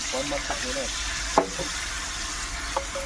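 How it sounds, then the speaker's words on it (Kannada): Ground onion paste frying in hot oil for mutton sambar, a steady close sizzle with a few sharp spatula knocks, while a voice talks faintly at the start. "ಈರುಳ್ಳಿ ಹಾಕಿ ಎಣ್ಣೆಯಲ್ಲಿ ಫ್ರೈ ಮಾಡ್ತಾ ಇದ್ದಾರೆ"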